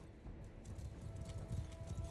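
Horses moving in Mount & Blade II: Bannerlord battle, a dense rumble of many hooves clip-clopping in the low end, building slightly louder toward the end, over a faint steady tone.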